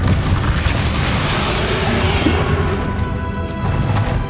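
Confringo blasting spell exploding during a fight with Ranrok in the video game Hogwarts Legacy: a loud, sustained, rumbling blast that fills the whole stretch with heavy low-end roar and crackling debris.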